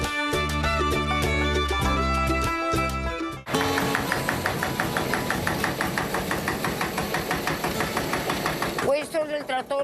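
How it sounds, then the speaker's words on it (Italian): A Porsche tractor used for vineyard work runs with a loud, steady chugging beat, close by. Its even rhythmic pulses follow a musical passage at the start. "Questo è il trattore del mio papà"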